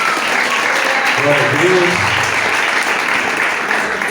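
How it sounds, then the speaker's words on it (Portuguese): Church congregation applauding during a service: loud, steady clapping throughout, with a voice calling out over it. "Aplaudam mais uma vez o Senhor."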